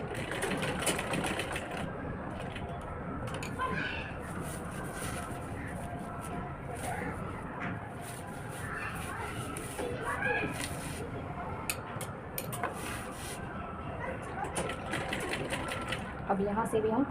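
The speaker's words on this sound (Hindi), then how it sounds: "वहीं से दोबारा से सिलाई लगाना स्टार्ट करूँगी" Sewing machine running steadily while stitching lace trim onto a homemade outfit, a continuous close mechanical whir with occasional brief clicks, carrying on for the whole stretch with a voice now and then over it.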